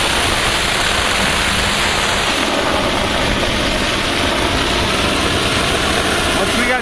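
Plain water gushes from a volunteer fire company's engine hose in a steady, loud rushing roar, with the fire engine idling underneath as a low continuous rumble.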